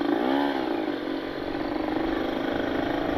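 An older Kawasaki Ninja RR motorcycle engine, fitted with an added ground cable, runs loud and close with a steady buzzing drone; its pitch dips slightly early on, then holds even.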